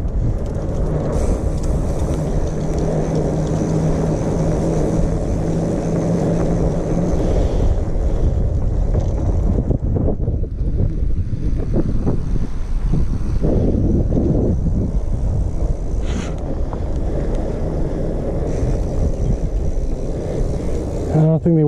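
Steady, loud wind rushes over the microphone throughout a spring street ride on a fat bike, a constant low roar with the rider talking over it at times.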